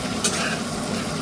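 Garlic frying in a pan, a dense continuous sizzle with stirring scrapes running throughout, close and steady with no talk.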